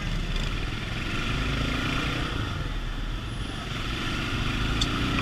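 Dense motorcycle traffic crowding through a busy night market street at Pasar Palmerah, a steady wash of engines droning and revving nearby without pause.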